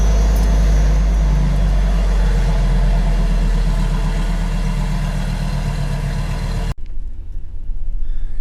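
A farm engine idles steadily during an Iowa harvest, a loud, close, low rumble that runs unbroken before cutting off abruptly near the end, leaving quieter background noise.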